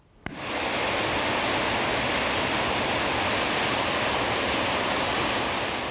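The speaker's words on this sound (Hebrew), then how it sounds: "רעש מחריש אוזניים של זרימות שלא ראו כאן שנים" Tahana waterfall in the Golan in heavy winter flow after snow and storm rains, a deafening, steady broadband roar that bursts in after a brief quiet start and stays dense and constant throughout.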